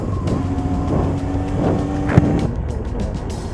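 A Honda CB750 motorcycle engine runs steadily close by with a rough, throbbing idle and a small pop partway through.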